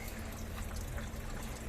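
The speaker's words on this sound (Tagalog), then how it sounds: "Show them how to wash the dishes." Water runs steadily from a tap as a child washes dishes, a constant close splashing trickle with no pauses.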